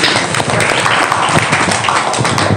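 Group of listeners at a classroom-style gathering bursting into clapping, close and loud, a brisk irregular patter lasting a couple of seconds.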